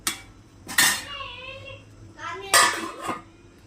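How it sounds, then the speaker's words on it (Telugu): A metal lid goes onto a cooking pot of village-style brinjal and prawn curry, giving two sharp clanks with a brief metallic ring about two seconds apart, close by. "మూత పెట్టేసుకుందాం"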